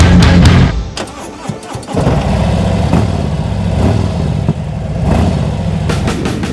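A 2018 Harley-Davidson Road King motorcycle engine cranks, catches and fires into a loud, throbbing idle close by, with no one speaking.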